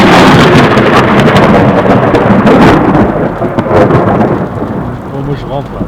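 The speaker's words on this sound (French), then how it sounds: "On est dans l'orage." Loud thunder rumbles through a heavy thunderstorm with rain pouring hard on surfaces, rolling continuously close by and easing slightly toward the end.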